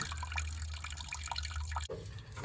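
Old gasoline drains from the gas tank of a '64 MGB, a steady close trickle and drip of liquid that breaks off briefly near the end.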